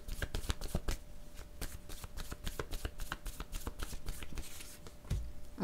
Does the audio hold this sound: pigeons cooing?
no